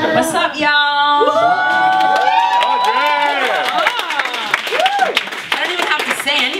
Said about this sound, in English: I don't even have to say anything and I get a round of applause